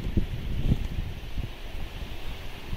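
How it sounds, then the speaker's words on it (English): Wind at a winter campsite by the Deschutes River buffets the microphone, a low roaring rumble with a few harder gusts thumping in close, steady and loud. "protected us from this wind. Look at that wind"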